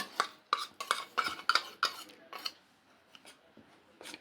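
A spoon scrapes and clinks rhythmically against a bowl as sattu flour is mixed with salt, black cumin, chilli powder and ajwain, a quick series of close taps that thins out toward the end.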